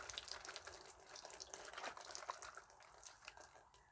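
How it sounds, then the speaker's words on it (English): Water poured from a jug splashes and trickles steadily in a continuous faint gurgling stream, fairly quiet and uninterrupted throughout, without any talk. "So I've got a jug of water, and all I'm going to do is start to pour."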